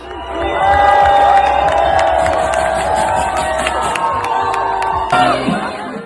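A concert crowd whistles and boos a performer in Grenoble, a loud sustained mass of shouts, whoops and shrill whistles with piercing tones sitting over the roar, continuing throughout.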